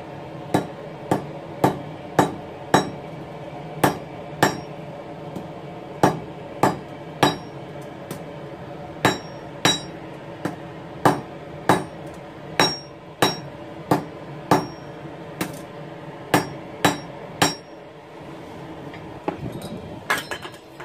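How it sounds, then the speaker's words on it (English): A blacksmith hammers hot steel on an anvil while forging a letter opener in a competition: steady, ringing metallic blows land about twice a second, loud and close, each with a bright clink and short decay, with no voices. "we're going to take it to the edge of the anvil right there, clean up that radius, and then we'll start bending it over"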